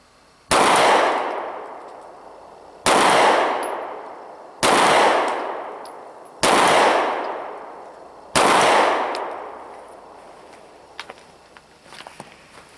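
An M&P 9c pistol fires 124 grain factory ammunition at 7 yards: five loud, sharp shots spaced about two seconds apart, each with a ringing, decaying tail. A few faint clinks follow the last shot.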